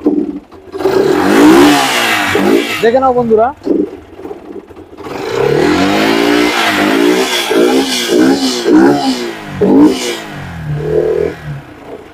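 A motorcycle fitted with a separate aftermarket air filter is started and revved repeatedly, each throttle blip rising and falling in pitch close by, with people talking between the revs.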